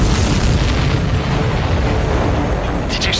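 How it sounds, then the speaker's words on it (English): A missile striking a supply ship in Ace Combat 7: Skies Unknown sets off a loud, sustained explosion that fills the whole stretch with a dense roaring rumble. "Did you see that explosion?"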